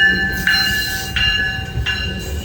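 A GO commuter train rolls past, its steady rumble filling the clip with a bright tonal ringing that pulses in repeated bursts, close and loud, with no voices.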